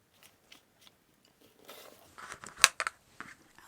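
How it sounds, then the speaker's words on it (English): Scissors snip through fabric pieces for a wrist pincushion, a few faint crunchy cuts early on and then a cluster of sharper, louder snips close up, with no talking. "so I'll just cut it again, and I'll cut 2 pieces"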